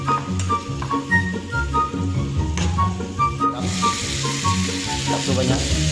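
Loud, steady sizzling of chicken with turmeric frying in a pan and being stirred, growing hissier partway through, with music playing underneath.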